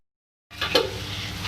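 Potato and egg being mixed in a pan with chopped green coriander, a sizzling fry that starts abruptly with a few scraping stirs, close and fairly loud.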